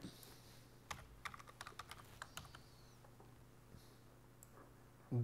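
Light clicks on a computer keyboard as a spreadsheet formula is typed, a quick irregular run of keystrokes in a quiet room, fading to a few scattered taps.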